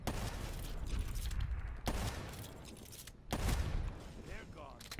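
Rapid gunfire from a Black Ops 3 gun game match against bots, a steady dense burst of shots running throughout with brief gaps, close and loud in the mix.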